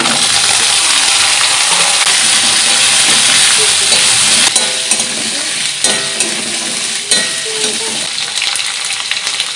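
Gourd stalks and potatoes frying in a pan with a paste of ground green chilli and ginger, giving a loud, steady close-up sizzle with faint stirring scrapes and no talk.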